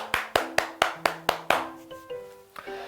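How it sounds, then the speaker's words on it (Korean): A small church group claps for participants after an online Bible study session, about six sharp, evenly spaced claps followed by softer scattered ones, with faint tonal ringing underneath. "모두 수고하신 분들께 박수하도록 하겠습니다"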